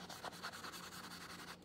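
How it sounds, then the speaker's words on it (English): Ink is rubbed onto a journal page in soft, close, rapid scrubbing strokes that form a faint, continuous rhythmic rasp. "I'm just going to give it a little bit of an ink rub down"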